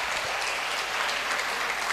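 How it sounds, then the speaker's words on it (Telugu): A church congregation claps hard and steadily, a dense, even applause that fills the whole moment with no voices rising above it. "గట్టిగా చప్పట్లు కొట్టండి, గట్టిగా హల్లెలూయా."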